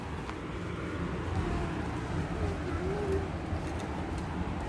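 Birds in an open aviary coo and call softly at middle distance, a steady low murmur of pigeon- or dove-like voices over faint background noise, with no speech.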